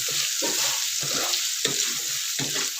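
Ginger sizzles and crackles as it is sautéed in a pan for dinengdeng, an Ilocano vegetable dish, with repeated stirring scrapes coming in rhythmic bursts over a constant frying hiss, close and alone.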